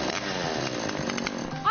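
A chainsaw runs in a haunted house attraction, a continuous loud buzzing engine drone that fills the whole span, with no words spoken.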